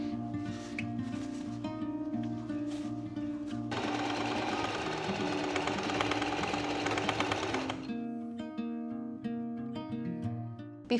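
A sewing machine stitches the elastic waistband of linen pants closed, running steadily and close with a continuous mechanical whir that thickens into a denser, busier burst midway before settling back.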